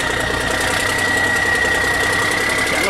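A boat engine runs steadily and loud as a newly built boat sets off to sea, a continuous close rumble with a faint whine riding on top and no talk.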